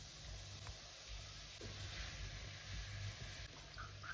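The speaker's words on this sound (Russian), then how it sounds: "Обжариваем морковь, после этого добавляем лук," Steady, soft sizzling of carrots and onions frying in a pan, continuous and quiet with faint stirring noises.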